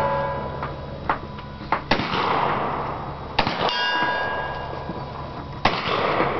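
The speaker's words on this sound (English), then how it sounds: "Gio's going to shoot." Rifle shots at a buffalo shoot in Hamburg, Pennsylvania: three sharp, loud cracks, each followed by a lingering metallic ring, with fainter clicks and knocks between them.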